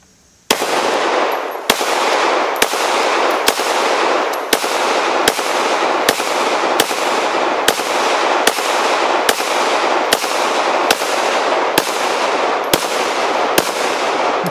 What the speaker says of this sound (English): Let's put a couple on this Glock 17 classic target